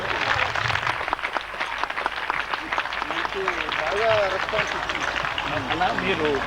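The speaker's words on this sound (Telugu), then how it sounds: "మీరందరూ చప్పట్లు కొట్టండి." An audience claps at a school anniversary celebration, the applause steady and moderately loud while a voice and some singing carry over it.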